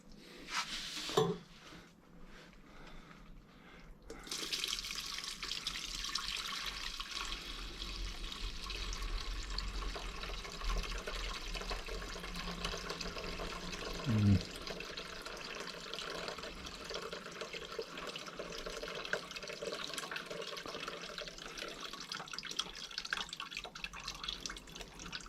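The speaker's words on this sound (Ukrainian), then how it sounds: "Через сеточку зливаємо." Homemade cherry wine (vyshnivka) pours steadily through a mesh strainer for a long stretch, a soft continuous trickle with an occasional clink of glass or metal.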